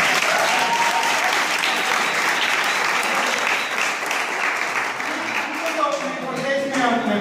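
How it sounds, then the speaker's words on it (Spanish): Steady, full audience applause at a team-building event in Barcelona, loud and continuous throughout with some voices and cheers mixed in toward the end. "Un aplauso,"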